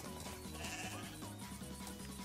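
Sheep bleat repeatedly over dense game music in Star Stable, the wavering cries fairly faint and overlapping with the steady music.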